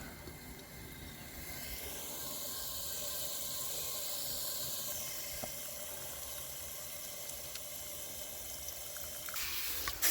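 Water pouring steadily from the drain hole of an IBC bulk container tank, a continuous hissing rush that stays even for several seconds with no talk.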